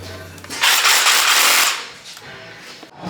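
Tack welding on a steel dummy fuel tank for a Nissan S15 drift car rebuild: a single loud, harsh crackling burst of about a second, fading into workshop noise.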